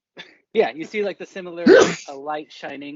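A person sneezes once, loud and sharp, in the middle of a man's speech at a tabletop game session.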